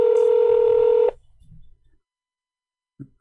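A steady electronic telephone tone sounds loudly for about a second as a call is placed, then cuts off into near silence, with short bursts of noise at the end.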